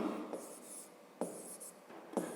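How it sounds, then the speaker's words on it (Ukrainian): Pen scratching on paper while writing by hand during a fifth-grade maths exercise, faint close strokes broken by three soft taps as the pen lifts and lands, with no talk. "Я напишу коротко."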